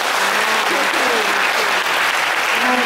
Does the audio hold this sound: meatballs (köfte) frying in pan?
no